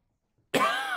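A single harsh cough bursts out after a half second of silence, loud and close, trailing into a raspy throaty rumble.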